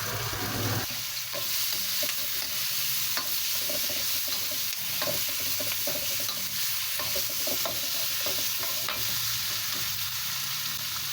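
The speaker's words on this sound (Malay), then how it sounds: "Kurangkan minyak goreng ikan tadi tu, kita tumis semua bahan-bahan potong ya." Chopped ingredients sizzle and crackle in leftover fish frying oil, with steady frying hiss and the scrape of stirring throughout, close and continuous with no talking.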